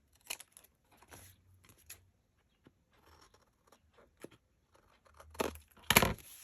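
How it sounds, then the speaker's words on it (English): Scissors snip the corners of a paper craft tag in a few quiet, brief cuts, ending in a louder crisp snip, with faint handling rustle in between. "And then we just take and we put that up there at the same time and we cut the corners."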